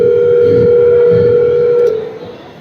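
Telephone ringback tone on an unanswered call, a steady electronic tone with a pulsing pattern that cuts off near the end, with faint room noise underneath.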